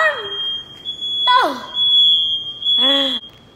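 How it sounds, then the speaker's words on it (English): A smoke or fire alarm in a home where a mother-in-law is cooking beeps with a steady, piercing high-pitched tone throughout, loud and close, while people talk and exclaim over it. "It's a fire alarm."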